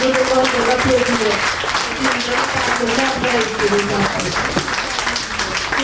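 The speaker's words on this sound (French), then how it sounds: "Et je vous demande de l'applaudir." An audience applauds the artist Kala at the opening ceremony of an exhibition at a women's museum, with sustained clapping throughout and a voice speaking or singing over it.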